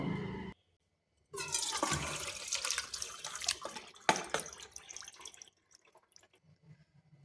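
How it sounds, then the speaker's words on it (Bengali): Wash water poured off washed sweet potatoes through a strainer, a close, loud splashing rush that fades into trickles and drips, with no talk. "এখন এটা আরেকবার জলটা ছেঁকে নেব।"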